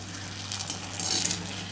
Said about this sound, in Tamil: தேவையான அளவு மிளகாய்களை எடுத்து போட்டு நல்லா பொரித்து எடுத்துக்கலாம்